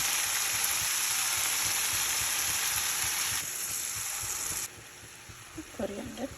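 Ginger-garlic paste going into a pan of sizzling Iffa chicken, a loud, dense hiss that steps down twice in intensity, with a brief voice near the end.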